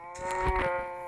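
Cow in the video game Alpha Survival giving a single short, loud, close moo that lasts about a second, alone with no talk.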